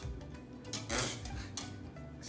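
A baking soda and vinegar mixture being stirred in a container, soft scraping and rubbing strokes with light clinks, close and fairly quiet, one brief louder scrape near the middle.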